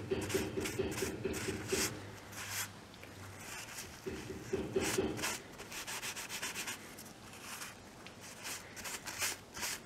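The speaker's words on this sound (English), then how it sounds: "Cover the whole surface. And we're gonna wipe off the excess." Excess finish being wiped off the surface of teardrop earrings makes soft, repeated rubbing strokes in quick rhythmic bursts, close up and fairly quiet, with no talking.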